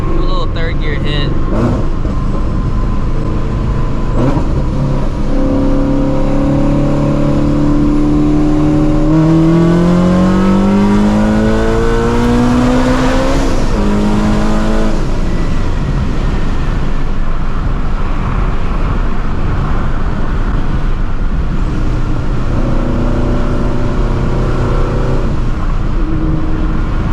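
A 700hp Procharged Ford Shelby GT350 pulls hard from inside the cabin, its loud engine note climbing steadily in pitch through long acceleration runs under constant road and wind roar.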